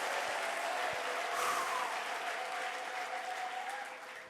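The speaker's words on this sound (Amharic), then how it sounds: "እስቲ እልልታ ጭብጨባ" A church congregation applauds in a dense, sustained wash of clapping, with faint ululation rising above it, fading slightly toward the end.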